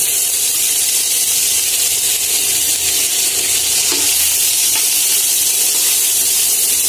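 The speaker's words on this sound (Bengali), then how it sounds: "কড়াইতে এখন পেঁয়াজ দিয়ে দিচ্ছি।" Steady sizzling and crackling of onions frying in hot oil in a karahi, continuous and close, with no talking.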